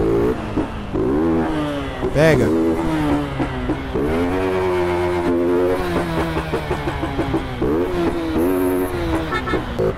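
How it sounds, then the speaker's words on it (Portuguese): A motorbike in GTA San Andreas accelerates hard, its engine note climbing and dropping repeatedly through quick gear shifts, loud and close throughout, with a brief spoken word. "Já vou ir acelerando forte."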